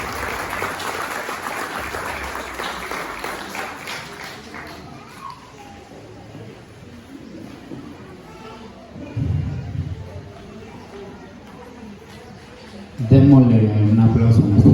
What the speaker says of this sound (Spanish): les pido que lo recibamos con fuertes aplausos